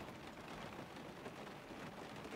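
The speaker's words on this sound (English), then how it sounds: "It's raining." Rain drums steadily on the roof of a 1997 Dodge Pleasureway wide-body Class B RV, a dense, even patter that stays constant throughout with no voices.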